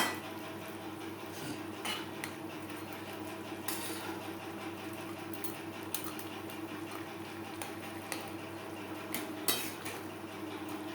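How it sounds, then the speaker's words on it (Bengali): A utensil stirs fried fish and fish heads into vegetable gravy in a pan, with faint metallic scrapes and clinks over a constant low hum, soft and steady with a few sharper knocks. "গ্রেভির সাথে মাছ ও মাছের মাথা বেশ ভালো করে মিক্সড করে দেবো।"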